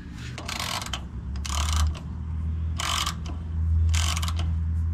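A ratchet loosening a 13 mm bolt on a 6th-gen Ford Bronco differential, with four short bursts of rapid clicking separated by pauses, close and crisp over a low hum.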